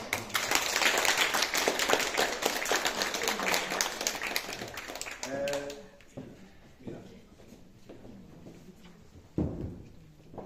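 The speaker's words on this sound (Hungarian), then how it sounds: "Na most akkor még egy kollektív nagy tapsot mindenki." A crowd claps steadily for several seconds at a school certificate ceremony, then the applause fades out into a quieter room with scattered noises and a brief sharp thump.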